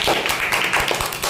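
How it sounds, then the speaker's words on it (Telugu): Schoolchildren in a primary classroom clap together in quick, uneven bursts of sharp claps. The applause is close and lively and lasts only a moment. "ఇద్దరికి క్లాప్స్ కొట్టండి"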